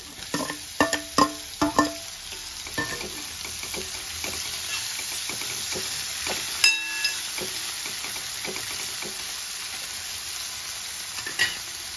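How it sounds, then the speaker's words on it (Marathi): Onion and tomato frying in a pan for a sprouted horse gram curry: a steady oily sizzle with sharp metallic clinks and scrapes of a spoon stirring, clustered early and then spaced out, close and fairly loud. "कांदा छान परतत आलेला आहे। आता आपण यात टोमॅटो घालून घेऊ।"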